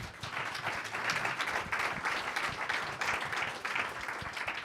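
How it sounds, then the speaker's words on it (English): Audience applause for a panel at a classical schools and higher education event, a steady broadband patter of many hands clapping at moderate level throughout, with no talk over it. "round of applause for our panelists"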